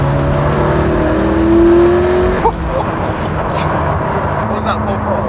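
A McLaren P1 supercar pulls away at full throttle on a public road, its engine note climbing hard for a couple of seconds before easing back into a steady, close, roaring drone.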